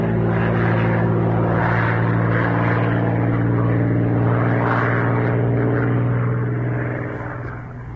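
Propeller warplanes, English or American aircraft attacking a town, drone loudly overhead with a steady, heavy engine roar that holds for several seconds before easing slightly at the end.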